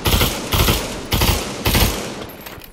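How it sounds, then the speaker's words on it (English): Bursts of automatic gunfire in the Pavlov VR shooter, four loud sustained volleys roughly half a second apart, each trailing off into reverberant decay, with no one speaking. "Hey, quit shooting at us."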